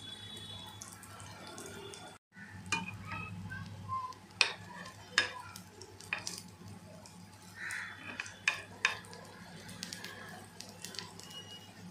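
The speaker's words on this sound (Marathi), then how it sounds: "मी शॅलो फ्राय करते" Potato and egg patties shallow frying in a pan over slow medium gas, a soft continuous sizzle broken by scattered sharp pops and utensil clinks, close and fairly quiet.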